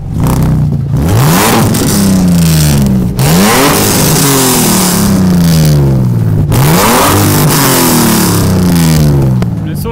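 BMW Z4 with an inline six-cylinder engine revving hard, loud repeated rising and falling sweeps of engine pitch, close and dominant throughout.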